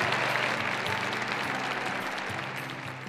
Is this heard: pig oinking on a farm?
no